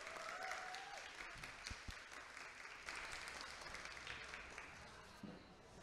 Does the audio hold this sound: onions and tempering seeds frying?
no